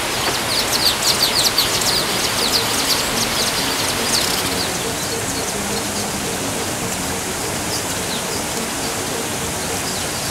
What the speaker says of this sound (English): Ssezibwa Falls area is among the so many places where you will find a number of birds.